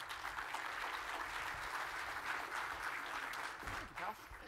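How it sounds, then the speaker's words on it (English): An audience at a Brewbound conference session claps in a steady, dense wash of applause for presenters called to the stage, with voices audible through and near the end. "Big round of applause for these guys."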